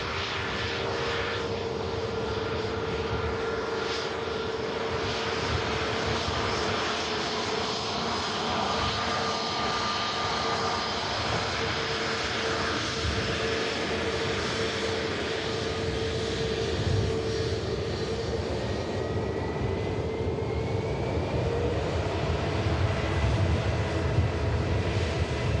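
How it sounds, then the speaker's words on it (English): An EasyJet Airbus A320neo vacating the runway at Manchester Airport gives off a steady, moderately distant engine roar and whine that holds for the whole stretch, with no voices. "This EasyJet Airbus A320neo vacating"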